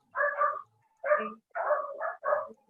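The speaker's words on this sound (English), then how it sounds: "there's a dog barking" A dog barks in four close, loud bursts of rapid yapping with brief pauses between, alone with no talk over it.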